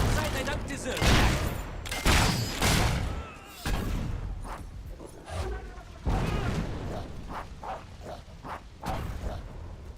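Mortar blown up in the Fable 3 video game: heavy, rumbling blasts and crackling gunfire-like bursts, loudest in the first few seconds, then fainter bursts amid ongoing battle noise.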